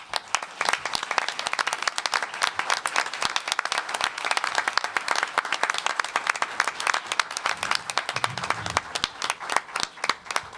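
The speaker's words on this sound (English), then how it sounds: "We're going to give you an applause." Audience applause for children standing up at a city commission meeting, a moderate, crisp clapping from a smallish crowd that stays fairly even and continuous throughout.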